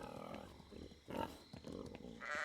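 Pigs and sheep in farm animal pens in the video game Pentiment, with soft grunts and bleats scattered among low ambient game sounds, faint and intermittent.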